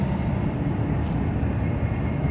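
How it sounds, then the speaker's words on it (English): A train rumbles past nearby with a steady, heavy roar and clatter that stays loud throughout. "There's a train."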